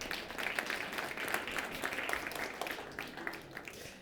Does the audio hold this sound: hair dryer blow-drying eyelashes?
no